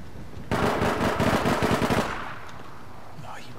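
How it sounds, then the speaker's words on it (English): Automatic gunfire in the video game APB Reloaded: a rapid burst of closely spaced shots lasting about a second and a half, loud and near, then fading into quieter game ambience. "She's firing at me as if it's a rifle."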